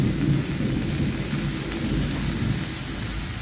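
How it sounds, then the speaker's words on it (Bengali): A heavy rainstorm with rolling thunder, dense constant rain hiss over a deep rumbling roar that swells and fades, loud and continuous with no voices. "খুব মেঘ ডাকছে, খুব বৃষ্টি হচ্ছে আমাদের এখানে।"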